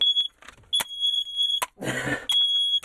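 A smoke alarm gives several sharp, high-pitched beeps close by, broken by short gaps and a brief burst of rustling noise.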